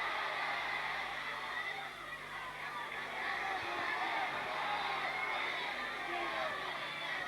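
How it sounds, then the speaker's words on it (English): A rugby league crowd at a 1993 Leeds v Leigh match cheers Leeds on, a broad, steady roar of many distant voices that swells and holds, with voices speaking over it. "the crowd now cheering Leeds on"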